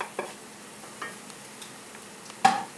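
Sliced mushrooms sizzle softly in a pan for shrimp pot pie filling, broken by a few sharp scrapes and clatters as they are stirred, the last one loudest.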